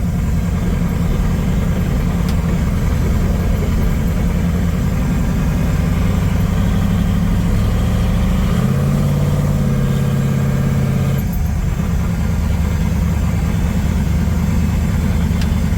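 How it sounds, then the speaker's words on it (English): A small block Chevy V8 with a blow-through carburetor in a 1980 Trans Am idles close by, a loud, steady low rumble with a brief shift in pitch midway. "it idles and drives around just fine"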